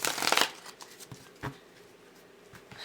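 A deck of tarot cards is shuffled up close, a dense burst of riffling flutter at the start followed by a few softer, scattered card taps and slides.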